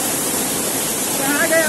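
A waterfall at Jaigaon near the Bhutan border in West Bengal pours in a steady, loud broadband rush, with a faint voice rising briefly above the roar near the end.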